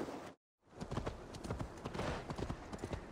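A horse's hooves clop in quick, steady rhythm while galloping in Assassin's Creed Valhalla on PS5, close and clear after a short silent break.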